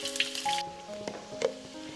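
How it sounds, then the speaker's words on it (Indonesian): Shallots and garlic frying in a pan give a bright, steady sizzle with crackling pops, loudest at the start and then easing to a softer hiss with scattered spatters. "Kita goreng bawang merah dikit ya teman-teman, dan kasih 1 siung bawang putih"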